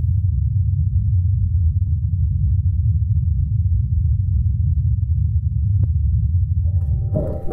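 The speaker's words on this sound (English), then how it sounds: "And this is a recording of the Ingenuity helicopter in flight." The Ingenuity helicopter flies on Mars, its rotors making a constant low, droning hum that holds steady and unbroken throughout, with a faint brief tonal whine near the end.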